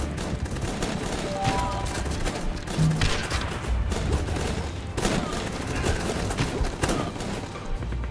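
Sustained gunfire in the squad tactics game Guns Up, dense rattling bursts running the whole time under a game soundtrack, with a voice speaking over it at moments.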